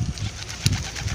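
A domestic pigeon coos close by in a couple of short, low, throaty bursts.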